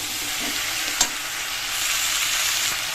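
Jackfruit, potato and prawns sauté in a hot pan with a steady sizzle and a sharp clink of a utensil near the one-second mark, the frying growing slightly louder toward the end.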